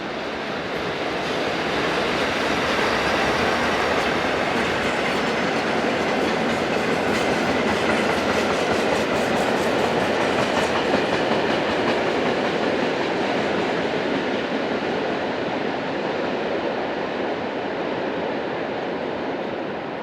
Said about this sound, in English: Class AE66 are still fairly common through here, mainly on freight to and from Zurich.